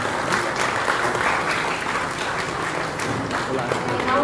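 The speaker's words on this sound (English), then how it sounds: "Can I have a huge round of applause?" An audience claps for the chief guest, a tourism minister, at a prize distribution for a cooking competition in Goa, with steady, moderately distant applause throughout.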